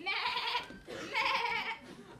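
An actor on a theatre stage imitates a sheep with two drawn-out wavering bleats, close and fairly loud, the second ending in a shorter trailing note.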